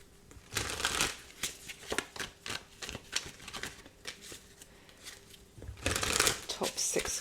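Tarot cards are shuffled by hand at close range, with crisp riffling bursts and soft slaps coming in irregular waves, louder at the start and end.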